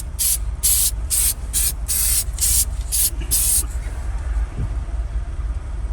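Light coats of paint are sprayed on a scratched GMC Acadia hatch in short hissing bursts, about seven or eight of them in quick succession. They are close and fairly loud over a low background rumble, and the spraying stops partway through.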